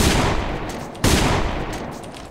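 Sniper rifle fire from the DSR-1 Dreamcatcher in the video game AVA: two loud, sharp shots about a second apart, each trailing off in a long reverberant decay.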